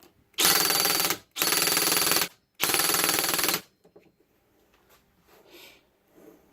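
A Bosch GSR 18V-60 FC cordless drill-driver roars in three loud bursts of about a second each, then cuts out, leaving faint scattered noises.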